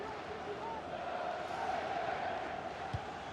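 A stadium crowd in the football video game FC 24 keeps up a steady, dense roar of noise and chanting, with a commentator's voice talking over it.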